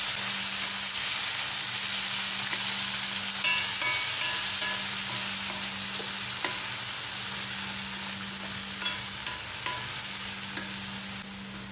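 Fresh tomato frying in a pan as a sauce base, a continuous close sizzle with a low steady hum beneath and sporadic stirring scrapes and clicks, no talking.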